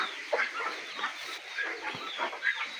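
Aseel game hens at a nest site give soft, repeated low clucks and brief calls at an irregular pace, close by, with no talking.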